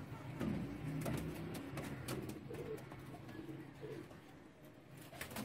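Breeder pigeons, a male and female pair, coo in low repeated throaty phrases close by, with soft rustling and a steady background hum throughout.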